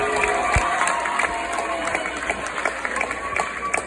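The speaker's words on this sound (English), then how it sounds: "Let's give them a round of applause." At a Gaithersburg high school band event, an audience claps and cheers for the standing band officers, a continuous room-filling patter of many hands with scattered sharper claps and a few voices.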